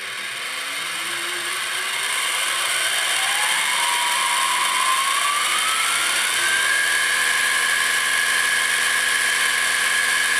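A Sieg SX2L mill motor spins up with a loud, steady whine that climbs in pitch over about six seconds, then holds at a constant high tone, with no talking.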